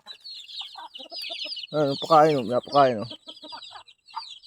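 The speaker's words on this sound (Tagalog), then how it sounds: "Kainin mo mga manok" Backyard chickens in a rural province cluck and squawk while being fed. Someone talks over them, and a couple of louder, drawn-out hen calls rise in the middle.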